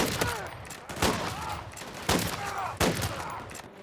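Rapid gunfire from the Modern Warfare 3 campaign, four sharp bursts spaced about a second apart, loud and close with game noise filling the gaps and faint voice under it.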